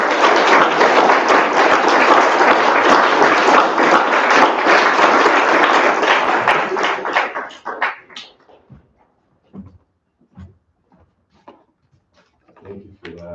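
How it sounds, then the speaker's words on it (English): An audience at a BGSU creative writing poetry reading claps loudly and steadily for about seven seconds. The applause then thins into a few scattered claps, followed by quiet room noise and faint stray sounds. "one more round of applause for Caitlyn's reading"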